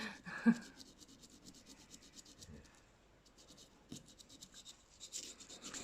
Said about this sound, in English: I would then work higher and higher in the grade of sandpaper